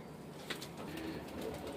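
Soft, low cooing from breeder pigeons kept for their golden young drifts through a quiet, murmuring background, faint and continuous.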